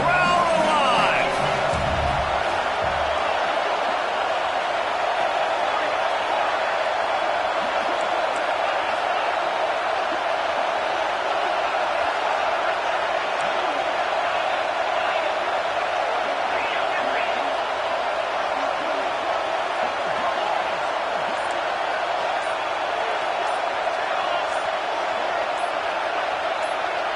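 Football stadium crowd roaring through a third-down red zone play, a loud, sustained wash of cheering and noise that holds steady throughout, with a brief burst of sound at the start.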